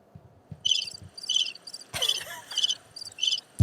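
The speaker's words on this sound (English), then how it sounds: "Where's that cricket sound?" A cricket chirping sound effect plays as short, evenly spaced bursts of high trilling chirps, clear and fairly close, with faint low knocks underneath.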